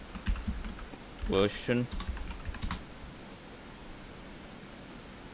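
Quick bursts of keystrokes on a computer keyboard while entering console commands for a CS2 zombie mod plugin, close and crisp, with a short spoken word among them before the typing fades to steady background hiss.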